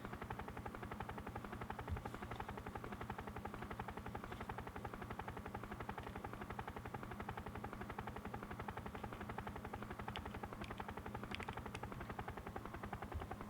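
Helicopter in the SNES game Urban Strike, a continuous, rapid rotor chop and engine drone that holds steady and fairly loud throughout, with a few faint blips on top.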